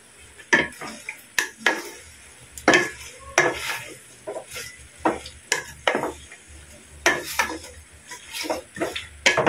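Tomato sauce goes into a pot of pork pochero and gets stirred, giving a steady rhythm of spoon scrapes and clinks against the pot over a faint sizzle, close and fairly loud, with no talk.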